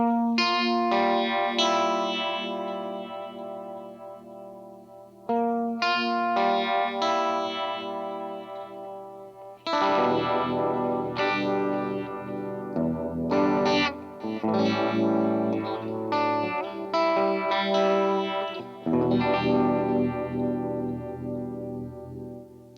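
Clean electric guitar through a Viscous Vibe pedal: chords and arpeggiated notes with a warm, swirling chorus-like modulation and a little echo, played steadily and upfront with no voices.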